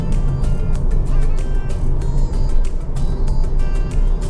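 Inside a cheap electric car on a Kuala Lumpur highway, a steady hum of tyres, road and wind fills the cabin, with faint passing swooshes and no engine note standing out.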